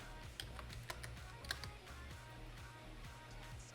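Computer keyboard keys tap in quick irregular clicks, close and faint, with a few sharper strokes standing out in a quiet room.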